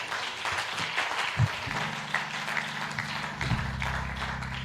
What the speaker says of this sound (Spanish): Denle un fuerte aplauso a Dios, mi hermano